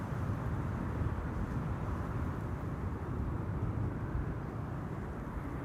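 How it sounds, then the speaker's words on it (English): An SAS CRJ 900 jet arriving at Amsterdam Schiphol, heard as a low, steady distant rumble of engine noise, faint and broadband, holding level throughout with no talk over it. "SAS, penultimate airplane of the day, CRJ 900."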